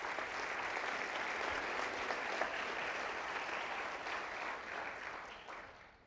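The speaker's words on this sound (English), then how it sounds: "So a big round of applause for the class of 2023." Steady, sustained applause from a crowd at a soccer club senior night honoring the graduating class of 2023, an even wash of clapping at moderate distance that tapers off slightly toward the end.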